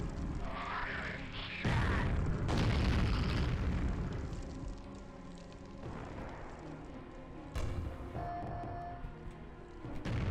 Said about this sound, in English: I hit it with the multi-rocket